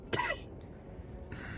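A short, harsh cough bursts out close to the microphone and fades quickly over quiet room noise, followed by a faint breathy sound a second later.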